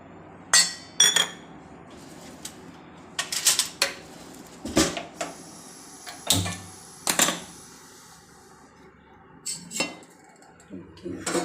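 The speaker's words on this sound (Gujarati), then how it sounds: "એક તપેલી લઈશું, એમાં આપણે ધાબો દેવાનો છે એટલે દૂધ અને ઘી ગરમ કરી નાખશું।" A pan and steel dishes clink and clatter in a home kitchen while milk and ghee are set to heat, with sharp separate metallic knocks spaced irregularly over quiet background.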